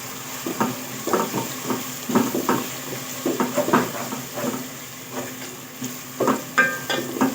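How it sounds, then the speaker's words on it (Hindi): Garlic and ginger sizzle softly in a pan while a spoon stirs and scrapes in irregular bursts, with a steady hiss underneath. "मैं लहसुन अदरक भी डाल दूँगी, इसको भी फ्राई कर लेंगे"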